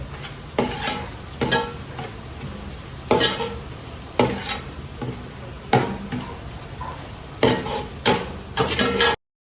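Onions frying in oil until golden for a chicken dum biryani, a soft steady sizzle broken by regular scraping stirs about once a second, close and fairly loud.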